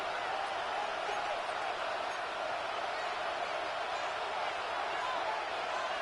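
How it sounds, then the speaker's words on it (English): A football stadium crowd for a Buffalo game roars steadily before a third-and-long play, a dense, unbroken wall of cheering noise at a constant level throughout. "The crowd cranking it up another notch before 3rd and long."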